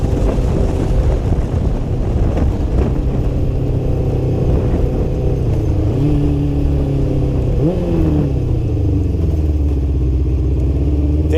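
Kawasaki Ninja GPX600 motorcycle engine droning steadily close up with heavy wind buffeting, pitch rising and dropping with gear changes and revs across the whole stretch.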